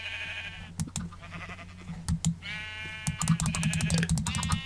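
Sheep in a block-building video game bleat repeatedly, with overlapping wavering cries layered over faint background game sounds and sharp clicks, no speech.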